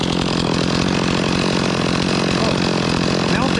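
A freshly rebuilt Stihl 026 chainsaw runs continuously at a steady, loud buzzing pitch, close by and filling the whole stretch without a break.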